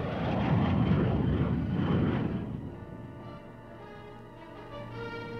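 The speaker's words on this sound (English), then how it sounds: "Those jets didn't materialize out of thin air." A military jet passes overhead during a mock field artillery engagement, a loud broadband roar that peaks early and then recedes into a fading, droning engine whine.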